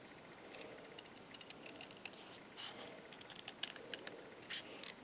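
Quiet, close snips of scissors cutting paper along a score line, irregular short clipping sounds in quick clusters with brief pauses.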